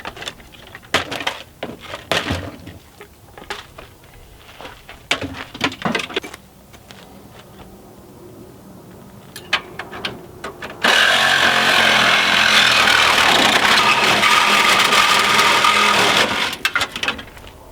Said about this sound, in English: So I'm using the Milwaukee M18s, that's the 18 volt power tools here.